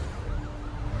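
A police car siren wails from the Spider-Man PS4 video game, a steady electronic tone blended into dense, noisy game ambience throughout a brief moment, with no speech.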